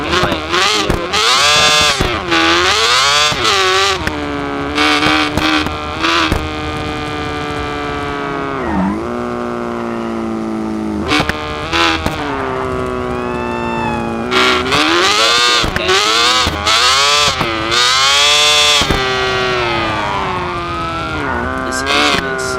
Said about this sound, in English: This engine is insanely powerful.